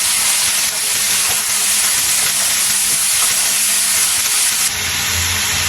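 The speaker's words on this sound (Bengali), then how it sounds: "করলা ভাজিটা একটু নেড়ে দিচ্ছি।" Bitter gourd slices with chopped onion, green chili and salt fry and get stirred in hot oil, giving a loud, steady sizzle and hiss throughout, with no talking.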